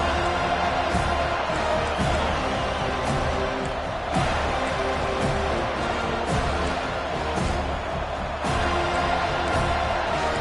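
A stadium crowd roars in an NCAA football video game, a dense, constant wall of cheering that never lets up, with occasional louder swells and faint commentary blended beneath.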